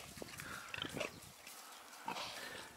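Sows in a pig barn, one just after weaning, grunting and snuffling softly and continuously, with several animals close by and low background noise.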